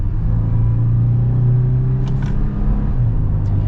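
Engine of a 2021 Toyota 4Runner TRD Off-Road accelerating in manual mode, a close, steady low drone with a rising tone that dips briefly as a gear changes, plus a few faint clicks.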